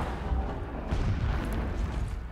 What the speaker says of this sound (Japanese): 遠くで爆発が。